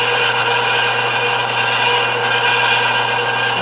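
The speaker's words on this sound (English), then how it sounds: "we got in our bandsaw set up. Start cutting the first one" A bandsaw cuts through wood pieces for a wooden dog kennel build, giving a loud, steady, continuous rasping whine close by with no pauses and no voices.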